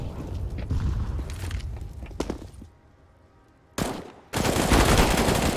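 Rapid gunfire from a shooter video game during an esports playoff match, with loud bursts and crackling volleys at the start, a quieter lull, then dense sustained firing near the end.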